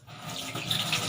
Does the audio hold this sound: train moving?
no